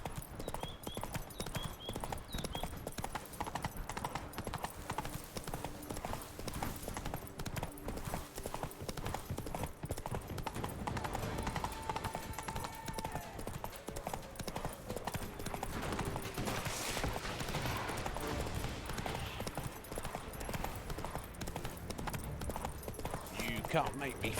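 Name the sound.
horse Roach galloping hooves, Witcher 3 video game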